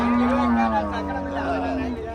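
A cow at the Pollachi cattle market gives one long, loud moo that dips slightly in pitch and carries for about two seconds, with steady crowd noise behind it.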